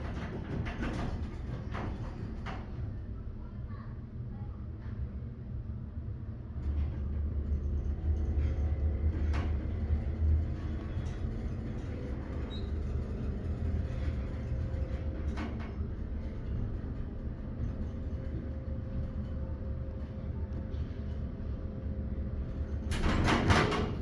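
A hydraulic elevator motor, on a Schindler or MEI service/passenger lift in a Target store at Herald Square, hums steadily in a low rumbling drone throughout the ride, with brief clunks at the start and end.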